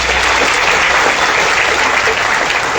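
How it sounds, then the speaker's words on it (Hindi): Loud applause from an audience at a DXN program event, dense continuous clapping filling the whole moment with no talk over it. "इस पेस्ट के लिए जोरदार ताली।"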